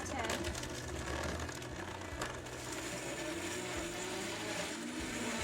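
A variable-speed blender runs steadily for several seconds, its broadband motor whir loud and continuous with a rough grinding texture, mixing a garden fresh detox cocktail; the speed change is not clearly marked.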